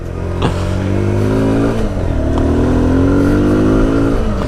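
A 2017 Kawasaki Z125 Pro motorcycle pulling away and accelerating, its engine note climbing steadily through the rev range, loud and close from the rider's position with steady wind noise.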